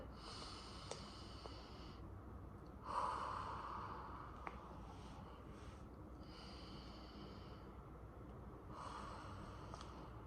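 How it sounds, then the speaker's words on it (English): A patient draws a deep, slow breath in during a chest expansion exam, a soft breathy inhale swelling briefly in a very quiet room with faint nasal airflow around it. "I'm going to ask them to take a really deep breath for me."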